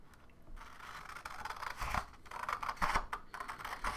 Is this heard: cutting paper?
yes